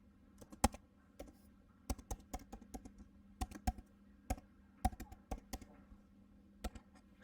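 Quiet keys are pressed one by one on a computer keyboard as a password is entered, giving irregular, close clicks with short pauses between them and no other sound.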